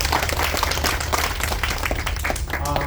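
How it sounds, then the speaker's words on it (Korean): Audience applause at a Korean association convention held aboard an MSC cruise ship, dense continuous clapping from a crowd lasting the whole time, fairly close and loud. "박수 한번 보내주시고 고맙겠습니다."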